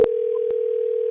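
Steady telephone dial tone hums loud and close, an unbroken single tone with brief clicks at the start and middle, no talk.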